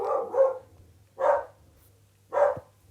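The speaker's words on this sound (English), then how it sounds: "The dog is not happy." An unhappy dog barks indoors, three distinct barks at roughly one-second intervals, close and moderately loud with a low hum underneath.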